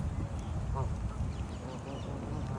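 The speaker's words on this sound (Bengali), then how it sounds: "কি পরিমাণ হাঁস আসছে দেখেন" A crowd of ducks quacks and honks in a park as they are fed chips, the calls loud and overlapping amid steady outdoor noise and some nearby voices.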